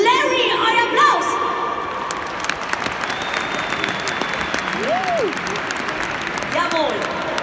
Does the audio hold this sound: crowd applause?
yes